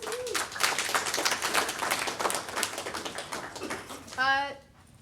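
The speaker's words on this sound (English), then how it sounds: "All right, a round of applause." Audience at a blockchain development talk breaks into a few seconds of dense clapping that fades out, followed by a short whistle-like tone near the end.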